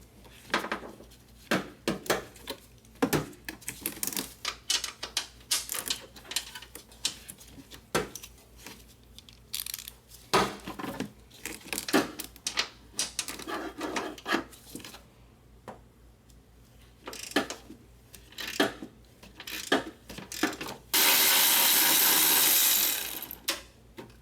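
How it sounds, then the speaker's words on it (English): Wrench work undoing the strut mount nuts on a Toyota Highlander during front strut removal: scattered metallic clicks, ratcheting and clinks in irregular bursts, close by, with a brief steady whirring stretch near the end. "now I'm gonna undo these nuts so we can remove the strut assembly"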